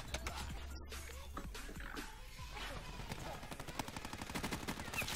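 Rapid gunfire from a Maddox RFB rifle in Black Ops, dense repeated cracks in quick bursts that grow into a steady fast rhythm toward the end, with faint voices underneath.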